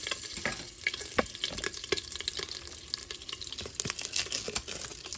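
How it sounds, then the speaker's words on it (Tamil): Mustard and fennel seeds crackle and sizzle in hot oil in an Instant Pot for shrimp biryani, with scattered sharp pops over a soft frying hiss, fairly quiet and close. "கடுகு பெரிய சீரகம் போட்டுக்கொள்கிறேன்"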